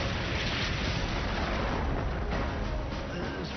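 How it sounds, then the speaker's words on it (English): A WWII Stalin Organ rocket barrage at Kursk erupts in a dense, unbroken roar of overlapping explosions and rumbling booms, loud and sustained, with no voices over it. "When the Stalin Orgel exploded"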